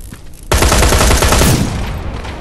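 Rapid automatic gunfire from the first-person shooter Terminator Resistance, a loud, dense burst that starts abruptly and rattles on for about two seconds before tapering, with no voices over it.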